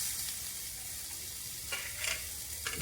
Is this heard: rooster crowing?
no